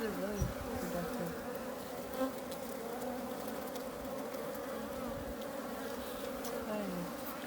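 Honeybees buzz around a hive frame holding drone brood, a dense, continuous, close-up hum with no talking.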